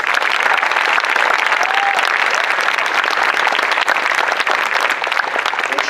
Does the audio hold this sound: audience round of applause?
yes